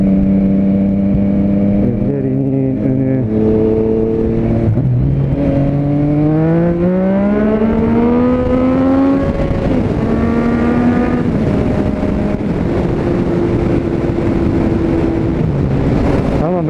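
A Yamaha motorcycle engine on Istanbul roads, heard up close from the rider's position, revving up through rising gear pulls and settling back to a steady drone under constant wind rush.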